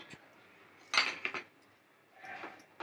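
A utensil scrapes and clinks against a pan over low heat while stirring a coconut laddu mixture, in a few short bursts, with quiet pauses between the stirring strokes.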